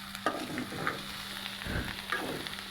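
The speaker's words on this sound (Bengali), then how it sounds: "পেঁয়াজ পেঁয়াজ পাতা ভাজি করছি।" Spring onion leaves frying in a pan, a soft continuous sizzle with light stirring scrapes and a faint steady tone, fairly quiet and close.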